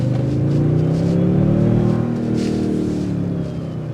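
A 2024 Toyota Sequoia Platinum SUV engine revs as it accelerates, a steady, loud, rising drone with a sweeping tone that eases off near the end.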